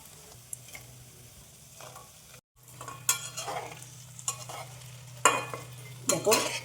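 Mini gulab jamun frying in oil, a soft steady sizzle under intermittent stirring scrapes and spoon clinks, close but quiet, with no voices.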